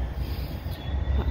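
A train begins to move and its wheels squeal in a thin, high tone above a low, loud rumble, with no voices.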